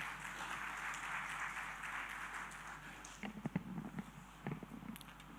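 An audience at a ceremony marking 75 years of India's Directorate General of Shipping gives a round of applause, a soft wash of distant clapping that thins into a few scattered, closer claps.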